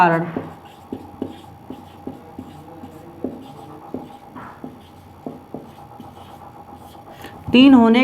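A pen writes a math solution on paper in short scratchy strokes at a steady rhythm, heard close beneath continuous speech.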